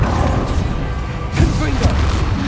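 Confringo and Bombarda spell blasts in Hogwarts Legacy: loud booming impacts with sharp crashing hits, one heavy burst midway amid dense battle noise.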